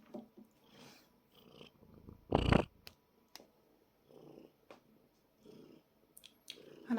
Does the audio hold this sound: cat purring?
yes